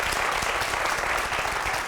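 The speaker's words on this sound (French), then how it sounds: "Merci d'applaudir pour vous-même, les gars." Audience applause at a French-language TV entertainment show, steady dense clapping from a studio crowd, loud and continuous throughout with no talk over it.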